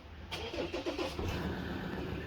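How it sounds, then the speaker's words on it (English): A pickup truck (bakkie) engine turns over and catches, then runs steadily up close as it gets ready to tow a car up a hill, with a few cranking pulses at the start. "So we're gonna pull this car up the hill with the bakkie."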